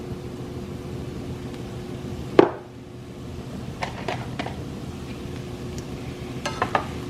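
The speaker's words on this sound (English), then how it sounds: "now I'm going to add the garlic and the onion" Hamburger meat frying with garlic, onion and green pepper in a pan gives a steady close sizzle, broken by a sharp clank of a utensil and several quick scraping stirs.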